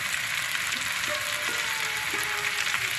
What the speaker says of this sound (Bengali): টমাটো দিয়ে ভাজছি এখন আমি সব মশলাগুলো দিয়ে দেবো